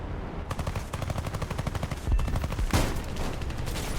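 Aircraft cannons in a flight combat video game firing at a B-29 bomber, a loud, rapid burst of repeated shots in a steady rhythm, with a heavier hit partway through.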